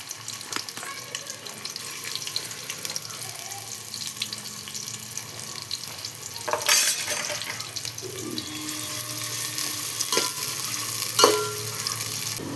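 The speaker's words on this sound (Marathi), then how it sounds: "तेल चांगलं गरम झालं की त्याच्यामध्ये हा कांदा टाकून घ्यायचा आणि तळून घ्यायचं त्याला" Chopped onions frying in hot oil in a pan for chicken biryani, giving a steady sizzling hiss throughout with a few brief clinks and stirring scrapes close by.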